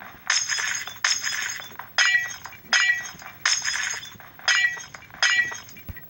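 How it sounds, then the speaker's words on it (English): Glass breaking in a survival island video game, a loud, close shattering crash repeated seven times in a steady rhythm about one second apart, each with a bright tinkling tail. "Break away that glass."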